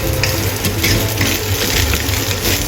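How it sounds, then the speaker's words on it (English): Vegetarian egg fried rice stir-fried over high heat makes a loud, dense sizzle, with rapid scraping and tossing in the pan close by and no voices. "Stir-fry quickly over high heat to allow the rice to be evenly heated and slightly burnt"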